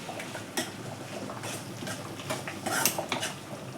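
White sesame seeds, about a teaspoon, frying in a pan at home while a spoon stirs them, giving scattered light scraping and clinking taps of utensil on metal over a faint sizzle, close and fairly quiet.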